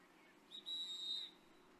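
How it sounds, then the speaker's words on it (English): Referee's whistle at a women's lacrosse sixes match signalling a hydration break, one steady shrill blast under a second long, heard faintly at a distance. "that's the whistle there for the hydration break"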